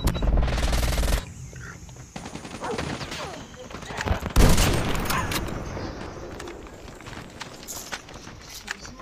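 Heavy ZRG 20mm sniper rifle shots in Call of Duty multiplayer, a loud booming report at the start and another midway, mixed with running footsteps and game noise, and someone talking.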